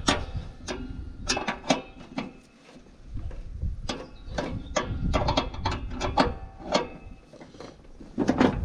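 Bolt tightened with a ratchet on a Castelgarden GGP SD98 lawn tractor during a cutting belt replacement, a run of close, crisp metallic clicks in uneven bursts with brief pauses.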